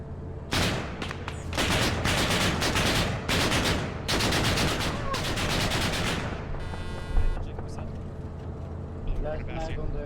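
Vehicle-mounted machine gun in an ArmA convoy, firing repeated loud sustained bursts separated by brief pauses, followed by a mechanical reload sound and engine rumble.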